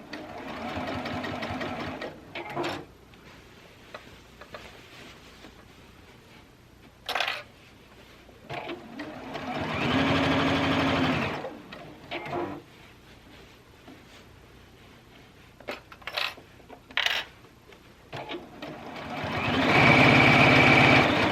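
Sewing machine stitching a seam for a sewing machine cover, running in short bursts and longer steady runs separated by pauses with clicks and handling noises, close and clear.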